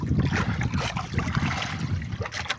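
Choppy sea water sloshes and slaps around a small fishing boat out squid fishing in rough waves, a continuous, moderately loud wash and splash with no voices.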